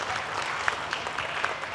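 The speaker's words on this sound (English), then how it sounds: "that deserves to be applauded" An outdoor audience at a Hmong festival in Oshkosh claps together in a sustained, even round of applause, with a few sharper individual claps standing out.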